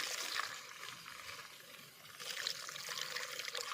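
Water poured into a bucket holding a lotus plant and mud on a rooftop, a faint, steady trickling splash with soft gurgling that continues throughout, no voices.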